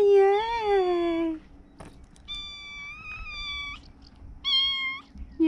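A cat meows in several drawn-out, wavering calls, close and loud, with short pauses between them and no talking over it.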